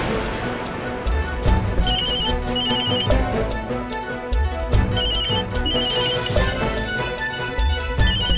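A mobile phone ringtone chimes in repeated bursts over background music, fairly loud and steady throughout.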